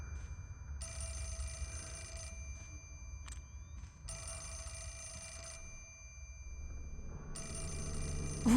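A telephone rings in the Fatal Frame 4 remaster horror game, sounding as three long bursts of bright, steady electronic ringing over a low background rumble.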